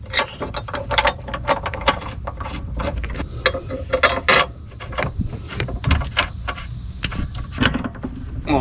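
A ratchet tightens 13 mm bolts on a Steeda IRS bushing kit under a 2019 Mustang GT: dense, continuous rapid clicking with irregular strokes over a steady background hiss, close and fairly loud.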